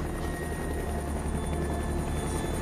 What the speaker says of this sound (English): A helicopter gunship sweeps the route ahead of the convoy, looking for signs of insurgent activity.